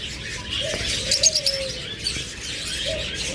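A pair of creamino red-eye forpus parrotlets chirp and give short rising calls, a few scattered tweets over a faint background hiss.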